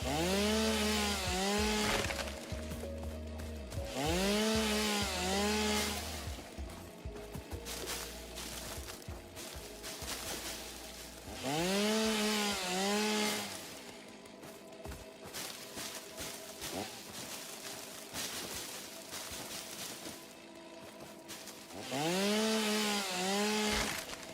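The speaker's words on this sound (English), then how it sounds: "Oh, I can reduce the sound of the chainsaw." A video game chainsaw cuts wood in repeated long droning bursts that rise and fall in pitch, each lasting a couple of seconds, with quieter scraping and clattering in between and no speech.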